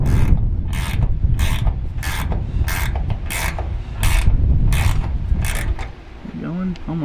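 A bolt treated with blue thread locker is cranked down with a hand ratchet on a 12th-generation Ford F150, giving about a dozen loud, even, rasping clicks up close, then a short pause and a brief faint voice.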